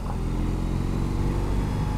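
A 2021 BMW R 18 First Edition motorcycle under throttle from a standstill, its big engine giving a steady, loud, low rumbling drone that holds throughout, close by, with no voices.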